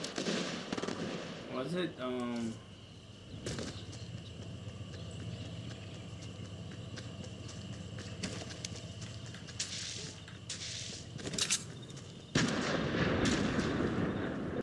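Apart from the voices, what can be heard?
gunfire in the video game Fortnite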